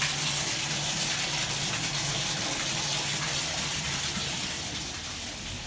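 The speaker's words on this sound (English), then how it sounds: "Turn on the bathtub? Sure." Water gushes from the tap into a bathtub in an old house with aging pipes, a loud, steady rushing fill close by that eases slightly toward the end.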